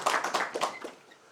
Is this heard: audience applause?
yes